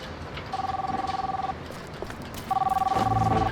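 A phone ringtone chimes in two short bursts of a steady electronic tone, separated by a pause, over faint background noise with a low rumble at the end.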